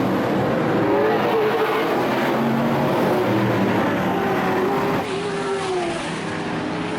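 Modified series race cars racing on a track in Lakeport, California, engines droning and whining continuously at mid distance as several cars run close together, with no talk over the steady roar.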